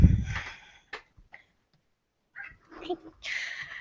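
A house cat gives a few short meows close by, with soft talking in the room and a quiet gap between the calls.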